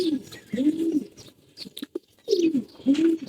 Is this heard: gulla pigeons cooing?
yes